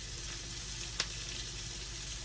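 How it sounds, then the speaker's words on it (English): Onions fry in a pan until soft and translucent, giving a steady, even sizzle throughout with one brief louder crackle partway through and no talk. "we're just going to cook these onions till they get a little bit soft and somewhat translucent"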